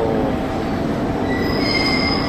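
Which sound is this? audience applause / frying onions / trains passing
trains passing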